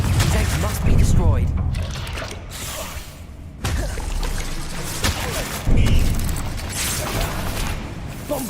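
Confringo fire spells burst loudly in Hogwarts Legacy, producing booming explosions and rumbling blasts in repeated waves, with crackling debris and a voice speaking over the action.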